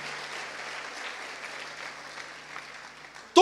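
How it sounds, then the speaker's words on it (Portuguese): A church congregation applauds in a steady, even wash of clapping, moderately loud and sustained throughout, ending with an abrupt close sound at the very end. "aplauda o Senhor pela vida dessas pessoas."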